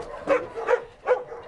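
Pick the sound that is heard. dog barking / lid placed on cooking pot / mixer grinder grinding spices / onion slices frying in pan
dog barking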